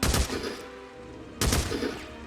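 An MG55 machine gun fires at a zombie horde in the video game Days Gone. Two loud, close bursts of rapid shots are split by a short pause.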